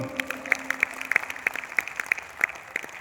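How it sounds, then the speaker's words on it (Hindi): Audience clapping at a Hindi poetry recitation, a scattered patter of hand claps with sharp individual claps standing out, moderately close and fairly steady for a few seconds with no voices over it. "जब तक मुझे सुनाई ना दे आपकी तालियों की आवाज"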